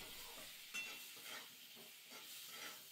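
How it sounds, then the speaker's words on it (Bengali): Cauliflower frying in a pan with salt and turmeric, with faint sizzling and a few soft stirring scrapes, fairly quiet and without talk. "কপিটা একটু সময় লাগবে ভাজা করতে, ওই জন্য আমি কপিটা একটু ভাজা করে নেবো হালকা করে"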